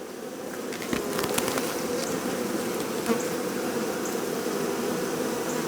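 Honeybees swarm and buzz around an open hive in an apiary, a dense, steady drone close by with individual bees zipping past the ear now and then.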